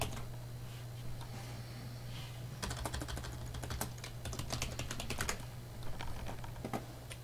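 Typing on a computer keyboard to enter login details into a hosting account, with steady clicking keystrokes that grow denser partway through over a constant low hum, with no talking.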